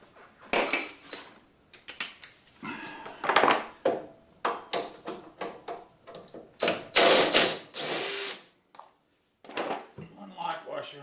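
A power tool blasts half-inch nuts off the inside of a vintage go-kart during brake disc work, in loud, short bursts with metallic clanks and a voice talking in between.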